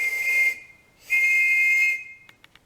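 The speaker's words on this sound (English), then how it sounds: "this little one is a chime, technically, because it has two chambers" Two shrill blasts from a small two-chamber chime whistle sounding two notes at once, close and loud with a hissing edge, a brief pause between them, then a few faint clicks.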